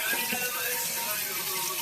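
A continuous hiss of running water, like a tap flowing into a sink while hands are washed, steady and fairly faint throughout.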